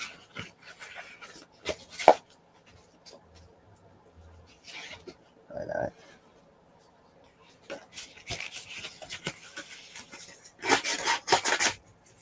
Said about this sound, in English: You want to start sanding.